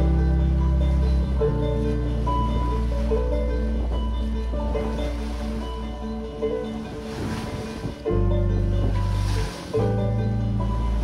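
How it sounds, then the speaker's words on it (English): Waves wash against a sailboat on Lake Michigan. A loud, continuous rushing of water and wind sits close to the microphone, with the boat's low hum underneath and brief surges and dips. No one speaks. "Did you get a little wave action?"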